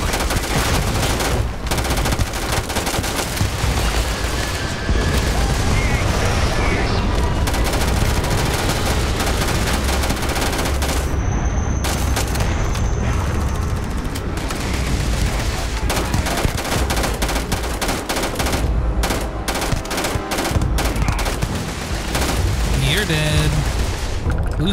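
Sustained gunfire in the video game Starfield during a fight with pirates: dense, loud bursts of automatic shots and booms running almost without a break, with voices talking over it.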